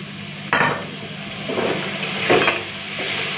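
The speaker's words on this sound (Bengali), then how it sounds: "এরপরে মশলাটাকে ভালো করে কষে নেব।" A Bengali egg curry masala of turmeric, Kashmiri red chilli powder, chilli powder, a little sugar and water fries in a pan. A low sizzle runs under three bursts of scraping and stirring against the pan.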